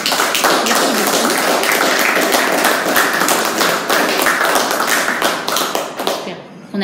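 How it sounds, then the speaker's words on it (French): A lecture audience in Rennes breaks into applause at the close of the talk, dense and loud hand-clapping sustained for several seconds before tapering off abruptly. "je pense qu'on peut vous applaudir"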